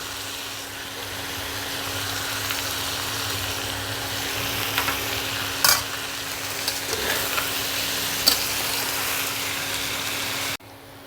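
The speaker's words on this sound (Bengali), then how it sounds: "সব দিয়ে আমি আবার একটু ভাজা করবো" Bell peppers sizzle steadily in a hot pan, a constant crackling hiss with occasional scraping stirs, close and loud, ending abruptly.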